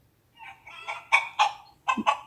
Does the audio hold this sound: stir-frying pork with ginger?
no